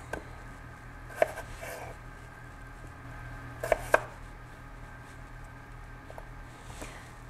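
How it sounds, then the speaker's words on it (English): A knife chopping golden potatoes into bite-sized cubes on a cutting board, a few sparse, quiet knocks spread out over a low room hum, with no talking. "Now I'm going to chop up some golden potatoes into bite-sized cube pieces."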